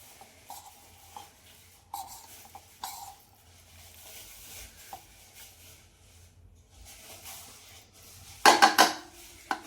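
Plum cake batter is mixed in a bowl, with a spoon making quiet scrapes and taps against the sides in an irregular rhythm, then a louder clatter of utensils near the end.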